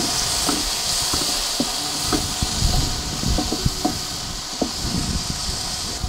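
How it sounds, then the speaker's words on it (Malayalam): Onion and tomato sautéing in a pan for an omelette: a steady, moderately loud sizzle and hiss, broken by scraping and stirring knocks from a spatula against the pan. "ഇനി ബാക്കി സവോളയിലേക്ക് ഈ തക്കാളിയും കൂടെ ചേർത്ത് ഒന്ന് വഴറ്റിയെടുക്കാം."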